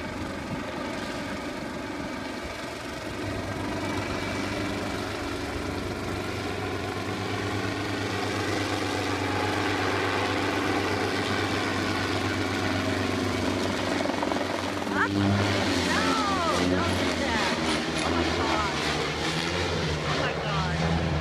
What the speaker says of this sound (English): That's a cute little helicopter.